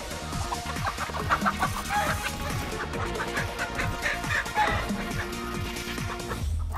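Chickens on a reality TV show cluck continuously in a busy, layered chorus, with many overlapping clucks and calls close by and no talking.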